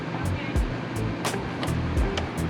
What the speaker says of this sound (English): turn on the faucet in the kitchen and the sink